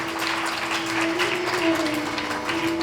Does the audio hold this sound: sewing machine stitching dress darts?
no